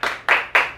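Three quick, close hand claps in a steady rhythm, crisp and isolated with short gaps between them.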